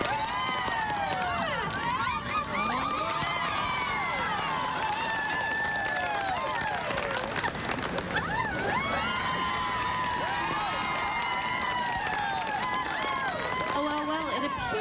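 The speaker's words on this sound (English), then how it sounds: "we want you to cheer as loud as you can for the man that you want crowned" Shoppers in South Boston Mall cheer for a Santa contestant with loud, sustained whoops, shouts and clapping that swell and carry on for about fifteen seconds.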